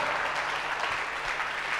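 Congregation applauding at a Spanish-language church worship service, a dense, steady wash of clapping throughout with no pause.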